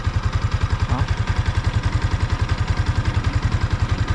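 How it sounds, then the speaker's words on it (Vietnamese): Yamaha Exciter 155 VVA motorcycle engine running steadily after its first 500 km, a close, even, rapid idle putter with a slight mechanical clatter layered on top, no talking. "Đây là tiếng máy sau 500 cây ha, 500 cây rồi mình thấy cái tiếng máy này nó cũng kêu hơi một xíu ha."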